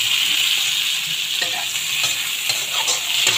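Tomato added to a fish and prawn curry fries in the pan with a steady bright hiss and sizzle, light stirring clinks and scrapes scattered through, close and continuous without speech.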